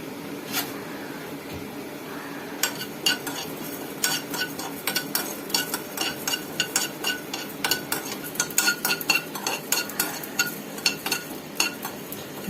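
Cumin, poppy seeds, cloves, cinnamon and coriander dry-roasting in a pan, heard as a faint rustle under a run of quick, close scraping and tapping stirs that grow busier as it goes on, with no voices.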